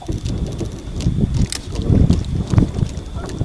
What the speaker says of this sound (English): We got a little bit of a wind blowing out here tonight.